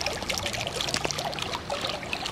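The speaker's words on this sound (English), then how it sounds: "I'm going to be stupid and stick my hand in the water." Hand splashing and stirring in sea water, a continuous busy watery trickle and slosh close by with no voice over it.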